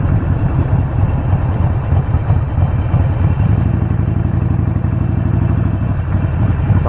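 A Harley-Davidson Sportster 48 motorcycle rides along on a street, its engine giving a loud, steady, close rumble with a rhythmic thumping pulse throughout and no talking.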